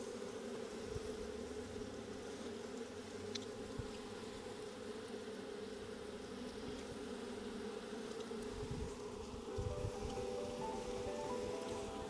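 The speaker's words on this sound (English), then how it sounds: "Now all the older foraging bees will fly back to the mother hive." Honey bees from an aggressive hive buzzing steadily around it outdoors, a dense continuous drone at moderate level with occasional louder passes of individual bees close by, with no talk.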